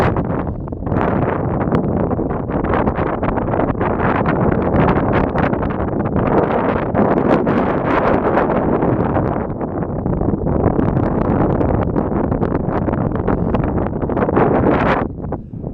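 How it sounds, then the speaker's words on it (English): Strong wind buffets the microphone on the summit of Mount Adams in the Cascades, a loud, continuous roaring rumble that holds steady for the whole stretch with no voices heard. "I don't know if you can hear me that well with the wind."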